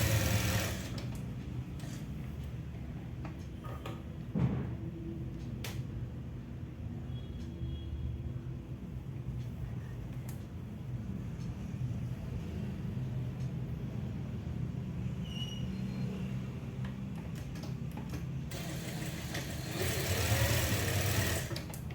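A sewing machine runs steadily while joining the shoulder seam of a garment, its even mechanical whir continuing for a long stretch with short pauses and no voices.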